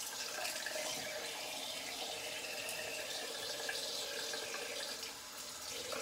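A tap runs in a steady, even stream to add water to shaving lather, the sound carrying on alone and close by for several seconds with a slight dip near the end.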